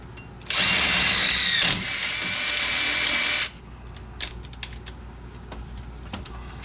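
Power drill boring a hole while stepping up bits toward 3/8 inch during a Jeep JKU front shock relocation, a loud high whine lasting about three seconds, then faint metallic clinks and handling noises.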